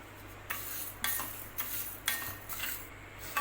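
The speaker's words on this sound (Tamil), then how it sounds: "இதில் ஒரு கப்பு புழுங்கல் அரிசி சேர்த்துக்கிறேன் இப்போ இதை வறுத்துக்கலாம்" Parboiled rice dry-roasting in a heated pan, stirred with a spoon: scraping and rattling strokes of grains against metal come in bursts about every half second, close and fairly quiet.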